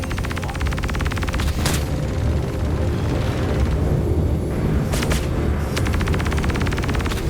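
Missile impact blast in the Star Citizen space combat game, set amid a Gladius fighter dogfight: a dense, sustained roar of rumbling explosions and rapid gunfire bursts, loud and continuous throughout, with sharp crackling flares of impact.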